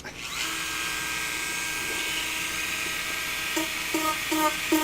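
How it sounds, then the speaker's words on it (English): A steady high-pitched whine of a small rotary power tool with a sanding drum running continuously, close by, with a few brief changes in pitch near the end as it grinds a helmet. "Let me just switch over to a sanding drum and be very light."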